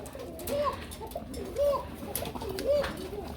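A female pigeon at a pigeon seller's coos in three evenly spaced phrases, moderately close, over a low steady background hum.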